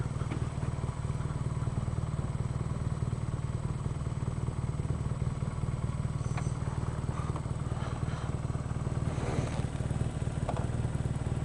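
A 2016 BMW R nineT motorcycle at the end of a test ride, its engine running in a steady low rumble close by, with a few faint clatters over the continuous idle.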